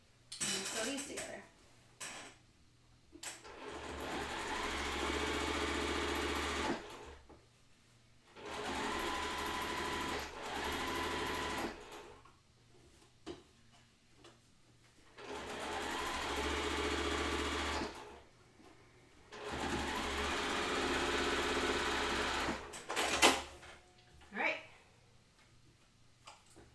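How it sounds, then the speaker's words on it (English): A sewing machine stitches quilt block pieces together in four sustained runs of steady whirring, each lasting several seconds, separated by short pauses with light handling clicks; no one speaks. "And sew these together."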